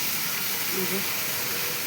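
Pieces of jackfruit frying in a pan with turmeric, giving a close, steady hiss of hot oil and steam that holds evenly from start to finish.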